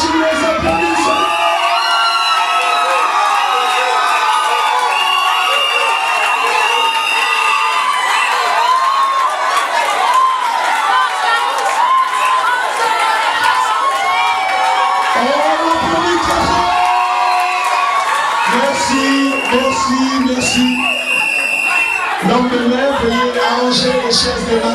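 Wedding guests at a Gabonese civil marriage ceremony cheer, whoop and shout loudly and continuously, a dense, bright crowd roar with children's voices mixed in, sustained for the whole stretch.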